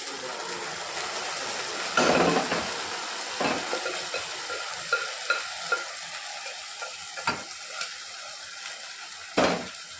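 Boiled beef stirred into hot oil in a pan, a steady soft sizzle with a few sharp scraping clatters of the spoon against the pan, close and alone without voices.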